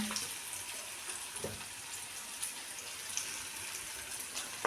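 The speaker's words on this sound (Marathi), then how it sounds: "आणि ह्याला परत परतून घ्यायचं छान असं परतून झाल्यानंतर" Cucumber curry with chili powder being stir-fried in a pan gives a steady broadband sizzle. Faint scraping stir strokes come through now and then, and no voices are heard.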